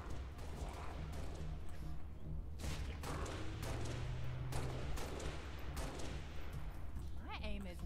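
Gunfire in Halo played on PC, rapid bursts of shots rattling through a dense, steady game soundscape with a low background hum, continuing throughout at moderate loudness.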